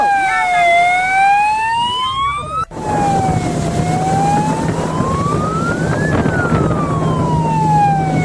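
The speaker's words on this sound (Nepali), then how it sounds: "हामीले पुलिस साइरन बजाएर खलनायक माछालाई पक्रिने निर्णय गर्यौं" A police siren wailing loud and close, its pitch sweeping up and down in long slow cycles, briefly cut by a sharp click before resuming over a low engine rumble.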